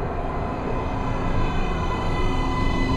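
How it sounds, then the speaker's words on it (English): A metro train in the video game Metro: Last Light pulls into a station platform, a loud continuous rumbling roar of wheels and carriages filling the space, with no voices over it. "Train coming in."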